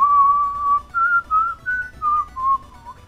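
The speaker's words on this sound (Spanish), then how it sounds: "Qué mal chiflo, ¿verdad?" A person whistles a wavering tune in several short phrases, clear and close, alone with no talking.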